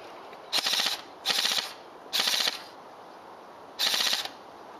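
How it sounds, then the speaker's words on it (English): A KWA M4 airsoft rifle on an 8.4 volt battery fires four separate bursts, each a rapid, close, mechanical rattle of shots lasting about half a second, with short quiet gaps between them and no talk. "That's not a burst fire mode, that's just firing in burst."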